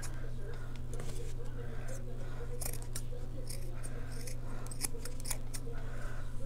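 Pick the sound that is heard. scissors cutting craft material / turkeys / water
scissors cutting craft material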